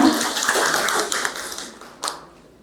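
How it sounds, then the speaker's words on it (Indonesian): A room of teachers at a school dissemination session claps in applause, a dense burst of hand claps that gradually thins and fades, followed by one last sharp clap near the end. "boleh beri tepuk tangan untuk Ibu Ma."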